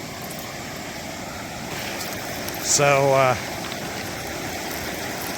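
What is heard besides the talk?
river water rushing over rocks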